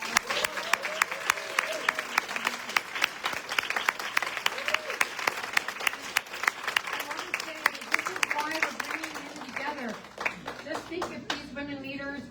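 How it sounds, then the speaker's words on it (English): Sustained applause from an audience for a panel at a climate justice event, dense clapping with some cheers and crowd noise, loud and continuous, fading slightly near the end. "So I want to give this incredible panel another round of applause."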